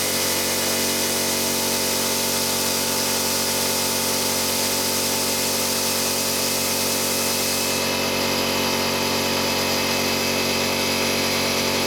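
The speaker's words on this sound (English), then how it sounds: "The compressor actually started when I wasn't even cutting." An air compressor runs with a constant, loud, broadband mechanical drone alongside plasma cutting, the tone shifting slightly partway through without any pause.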